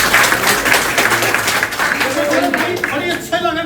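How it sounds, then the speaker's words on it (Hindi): A seated audience claps for Saurabh Kaushik, a guest at a talk on MLM schemes. The short burst of loud, close applause runs throughout, and a voice rises over it toward the end. "सौरभ कौशिक भाई के लिए एक बार तालियां बजाओ।"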